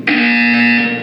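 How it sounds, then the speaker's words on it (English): A single loud, harsh electronic buzzer from the game Portal 2 blares for about a second, steady and flat in pitch, then cuts off. "You will hear a buzzer."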